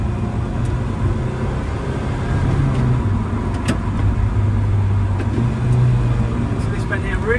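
A Vauxhall VX220 sports car drives on a wet road with a steady, loud engine drone and road rumble from inside the cabin, pitch shifting slightly as speed changes, under a voice.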